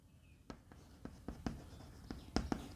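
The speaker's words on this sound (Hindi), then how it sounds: "तो गैलियम का मैं लिख देता हूँ" Chalk or marker strokes on a board tap and scratch in short separate bursts, about ten brief ticks at uneven intervals, close and faint in a quiet classroom.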